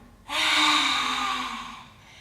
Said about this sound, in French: on prend de l'air et on va sortir l'air